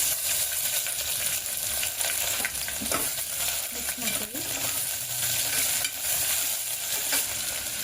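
Peppercorns, cumin and onion frying in oil for tomato bath, a steady loud sizzle filling the whole stretch with occasional spoon stirs and a light clink, close and continuous.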